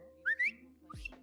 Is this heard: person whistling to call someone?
yes